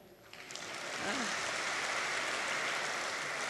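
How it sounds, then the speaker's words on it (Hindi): An audience at a spiritual class breaks into applause that swells within a second into a dense, sustained clatter of clapping, with a brief voice near the start. "ताली तो बजाओ।"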